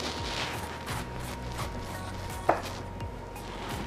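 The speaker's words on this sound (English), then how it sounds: "I'm gonna start cutting up the cabbage" A knife chopping cabbage on a board with soft, evenly spaced cuts and one sharper knock partway through, all over a steady low background hum.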